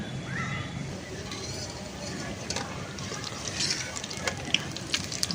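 Flattened onion fritters (piyaji) slide into hot oil and fry with a steady, dense crackling sizzle, with sharper pops and spatters building toward the end.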